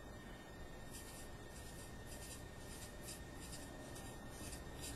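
A pen or marker writing numbers by hand during a math lesson on decimals, faint repeated scratchy strokes in short bursts over a steady background hiss.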